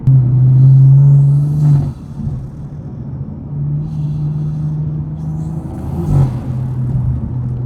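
A turbocharged BMW 340i running on ethanol race gas drones loudly from inside the cabin with a steady low engine note, easing off briefly before pulling again, with no talking.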